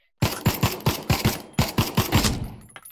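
Rapid bursts of loud automatic gunfire ring out in the VR shooter game Pavlov VR, about a dozen sharp, close shots in two quick volleys, with no talking.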